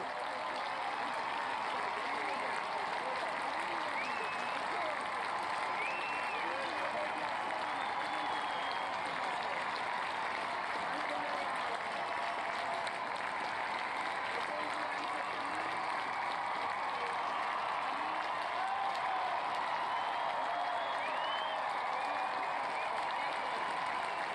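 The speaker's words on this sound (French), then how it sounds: "on voit effectivement la reine apparaître et cette clameur dans le public, cette clameur impressionnante" A large outdoor crowd roars and applauds continuously as Queen Elizabeth appears during her Jubilee celebrations, a dense, steady wash of cheering and clapping from many people that holds at an even level throughout, with no single voice standing out.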